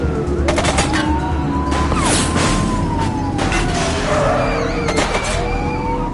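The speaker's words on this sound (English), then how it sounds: "She's shooting!" Gunfire from a shooting suspect in the police video game The Precinct, a series of sharp shots in several bursts under a continuous wailing siren.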